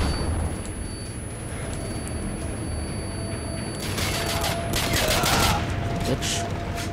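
Gunfire in Call of Duty 4 arrives as a cluster of loud blasts over a steady background rumble of game noise, clearly from a shotgun exchange.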